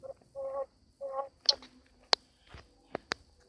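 Chickens in the Minecraft video game cluck in a few short separate calls, fairly faint, with several brief clicks and taps between them.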